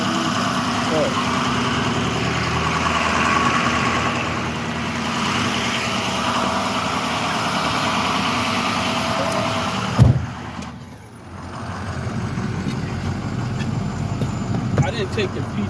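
A tow truck's engine idles with the PTO engaged, a steady close rumble and whine that cuts out abruptly partway through, then resumes with a lower drone; people talk at points.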